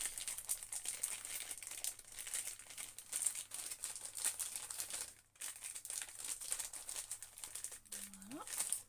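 A paper envelope pouch being glued and pressed by hand, with steady close crinkling and rustling throughout and a brief pause midway.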